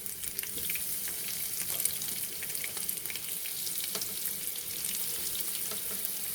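Garlic and stuffed bitter gourd (kakarakaya) fry in hot oil with a steady, dense crackling sizzle, close and even throughout with no voices.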